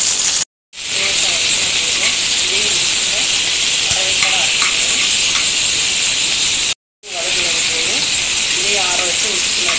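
Onions fry lightly in a pan for a garlic kuzhambu, giving a steady, loud, close sizzle with crackling hiss that continues throughout, broken by two brief cuts of silence.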